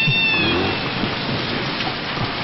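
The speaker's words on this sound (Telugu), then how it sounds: "వర్షం వస్తుంది కదా" Rain falling in a dramatic movie scene, a constant broadband hiss of steady downpour, fairly loud and even, with a faint tonal cry briefly near the start.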